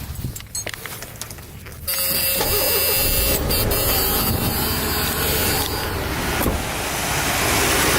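An original survivor car with 79,000 miles fires up after a few quiet clicks, then settles into a loud, steady, smooth idle that runs close by for the rest of the clip.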